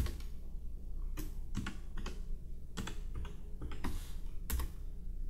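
Keys on a computer keyboard clatter in quick irregular bursts as a username and password are entered, close and fairly quiet with short pauses between runs of taps.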